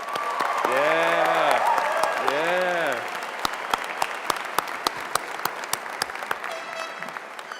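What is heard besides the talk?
applause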